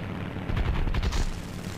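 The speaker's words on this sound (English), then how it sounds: "I've been attacked by, I believe this is an American plane" An American P-400 fighter plane strafes with rapid machine-gun fire in the War Thunder combat flight game, a dense rumbling burst of shots that swells and fades under engine noise.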